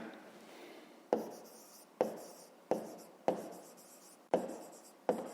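Pen writing an answer for a rectangle's perimeter in a notebook, scratching out six separate bursts of quick strokes, each starting with a sharp tap and trailing off, close and alone with no voice.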